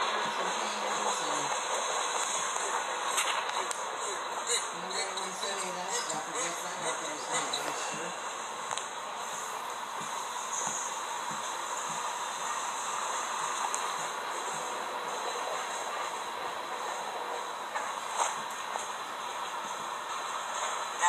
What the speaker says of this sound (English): Now it kind of sounds like he's picking up a little bit of speed